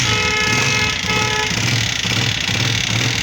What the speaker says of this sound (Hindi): अभी इस बाइक को स्टार्ट करते हैं।